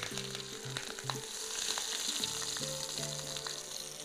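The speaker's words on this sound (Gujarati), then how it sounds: "રઈ તતડી જાય એટલે એમાં જીરું નાખીશું, ચપટી હિંગ નાખીશું." A hot oil tempering of mustard seeds, cumin, asafoetida and green chillies sizzles loudly and steadily up close, with a faint tonal melody playing underneath.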